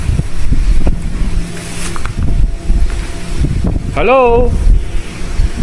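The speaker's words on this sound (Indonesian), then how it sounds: "Anginnya tiba-tiba kenceng loh" Strong wind gusts buffet the microphone in a rough, rumbling wash that rises and falls across the clip, with a person speaking over it and a brief warbling vocal sound near the end.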